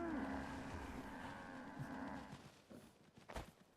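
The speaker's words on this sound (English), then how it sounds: "I hear a moo-moo out there." A cow in Fallout 4 gives a long, faint moo, then a second, louder low call near the end, heard without any talk.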